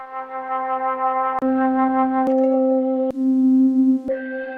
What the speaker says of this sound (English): And then some flutes.